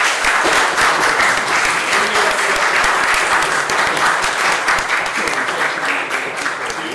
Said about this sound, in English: we should all do a big applause and a big thank you to our local host, Vladimir and his team